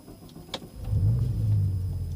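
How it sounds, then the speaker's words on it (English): A modified Audi RS6 Avant (C6) V10 rated at 715 BHP starts up: a brief starter whir, then the engine catches and settles into a loud, steady low rumble close by. "this wonderful V10 kicks to life."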